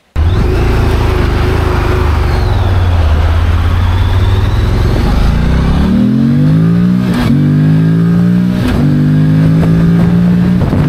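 Morbidelli MBP T1002VX motorcycle's one-litre engine, loud and close, idling smoothly then revving up and down in rising and falling sweeps with an even, rattle-free tone, no talk.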